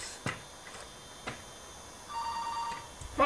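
A telephone rings faintly in a quiet workshop, a short burst of electronic trilling late in the clip, after a few isolated ticks and clicks.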